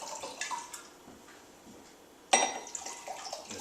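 Tap water runs briefly at a kitchen sink as a hand is rinsed: soft, faint splashing and trickling, with a sharper burst of flow partway through.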